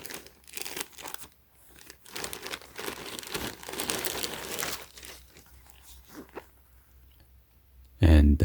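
A Supreme bag made of Cordura fabric is handled, giving bursts of crinkling and rustling plastic alongside someone talking, ending in a louder crunch of handling.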